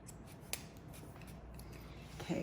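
Scissors trimming a woman's front layers during a gray hair blending haircut, a few faint quick snips close by in a quiet room, with no talking.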